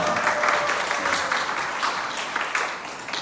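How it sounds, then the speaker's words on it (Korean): An audience at a church youth outreach training session applauds, giving a steady, full round of clapping that fills the whole stretch without voices on top. "감사의 박수 드리겠습니다."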